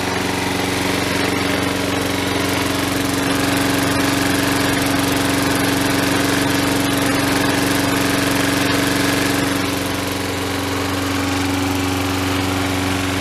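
A Sears Craftsman lawn mower engine runs steadily and loudly after a partially sheared flywheel key was replaced, a continuous droning hum with a strong low tone holding throughout, easing slightly near the end.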